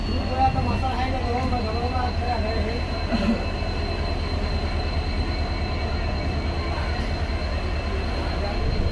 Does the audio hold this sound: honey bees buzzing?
no